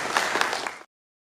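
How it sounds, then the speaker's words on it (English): Applause from a conference audience at a closing ceremony, a short dense burst of clapping that stops abruptly after under a second. "let's give him a big round of applause"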